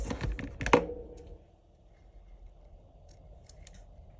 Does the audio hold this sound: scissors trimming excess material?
yes